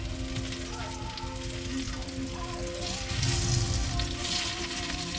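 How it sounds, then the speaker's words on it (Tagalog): Tortang talong, an eggplant omelette with egg and ricados, frying and bubbling in a pan with a loud, dense, continuous sizzle that swells slightly partway through. "Nagbula-bula siya, nagbubble siya kasi hindi pa niya naluto yung ano, yung itlog at saka yung mga ricados."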